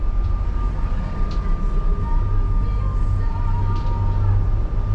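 A 2023 North River Seahawk 2900 boat engine runs steadily in reverse, a loud, continuous low rumble with a faint tonal whine above it and no talking.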